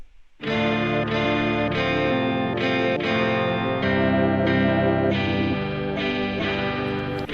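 A dense, distorted guitar-driven beat plays continuously with a halftime effect at a slowed, heavy pace, loud and saturated with effects and chords shifting every second or so.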